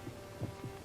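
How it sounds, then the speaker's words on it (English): A steady heartbeat thuds in low, soft double pulses, three beats spaced evenly over a faint background hum, quiet and close. "almost in rhythm with the beating of his own heart"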